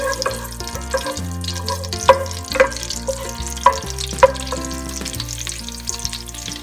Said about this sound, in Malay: Kita tumis agak-agak dalam 1 atau 2 minit lah begitu